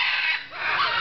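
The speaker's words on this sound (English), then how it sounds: "Yeah, you can cluck" An African grey parrot clucks like a chicken, one short, loud, close burst of raspy clucking.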